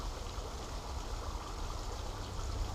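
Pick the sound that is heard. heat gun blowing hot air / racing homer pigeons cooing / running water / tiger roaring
running water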